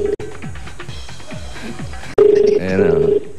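Phone ringback tone heard while placing a call: a steady tone in repeated bursts, loud and close, over background music with a louder stretch near the end.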